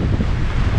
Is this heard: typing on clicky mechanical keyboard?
no